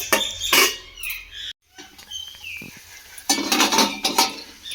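A spatula scrapes and clinks against a metal pan while tomato, ginger, garlic, onion and green chilli paste fry together, coming in loud bursts of stirring with a brief silent gap between them.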